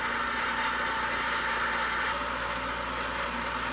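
An angle grinder cuts off the top portion of a steel hood-mount light bracket on a 4th Gen Ram, a steady, loud, continuous whine and hum running throughout without pause and with no talking.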